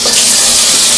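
Cold water runs from a sink tap in a steady, loud, close hiss and splash, with no voices.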